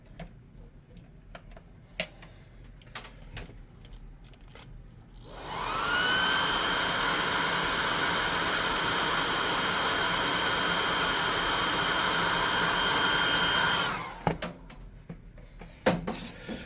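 Steady airy hiss of an air gun spraying paint onto a miniature Drow archer figure, rising abruptly after light clicks and taps, holding loud and even for about eight seconds, then cutting off to scattered handling clicks.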